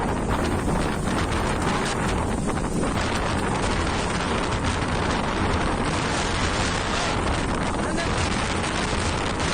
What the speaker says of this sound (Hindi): यहाँ 100 किलोमीटर प्रति घंटे की रफ्तार से हवा चल रही है।